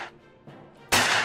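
A single sharp, loud gunshot bursts out abruptly after a couple of quieter soft sounds, a revolver firing with a bright crack in Minecraft.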